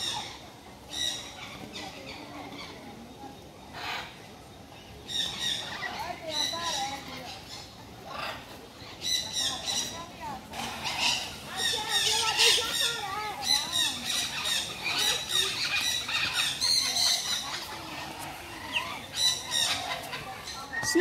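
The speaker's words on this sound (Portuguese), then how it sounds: "Arara com o papagaio, quem é que vai ganhar?" Macaw and parrot squawk at a zoo in João Pessoa, Brazil, harsh repeated calls that rise and fall across the stretch, mixed with bursts of other bird noise and people chatting nearby.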